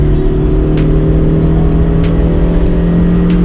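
A supercharged 1.5-liter Honda CR-Z engine drones steadily and close while the car drives on Falken tires, with short ticking bursts recurring over the constant hum.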